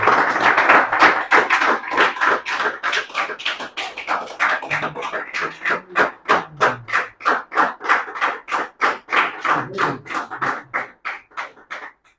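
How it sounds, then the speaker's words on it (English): Audience at a student farewell event clapping for a student, starting as dense applause and settling into steady rhythmic unison claps that gradually thin out, with some voices underneath. "Keep clapping for Vikram."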